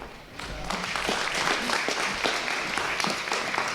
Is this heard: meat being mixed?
no